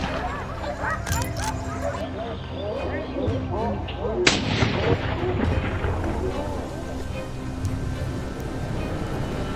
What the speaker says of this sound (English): As the dogs flush it out of cover, the group fires in unison, bringing down the prey with little difficulty.